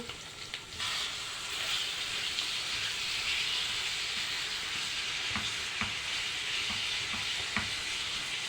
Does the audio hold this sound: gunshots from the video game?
no